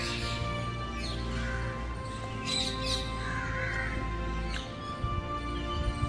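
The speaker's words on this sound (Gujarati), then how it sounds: "તમે આ જે પક્ષીઓ બોલે છે એનું કલર તમે કેવું બહુ જ મીઠું લાગે છે" Crows caw and other birds call around Surat Fort, with a few harsh squawks standing out over a steady background hum at moderate distance.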